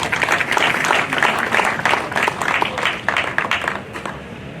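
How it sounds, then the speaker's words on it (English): Sustained audience applause at a formal Ugandan ceremony honoring the prime minister, a dense wash of many hands clapping steadily, loud and close, with no talk over it. "Another big applause."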